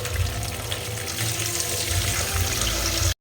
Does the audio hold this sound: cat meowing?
no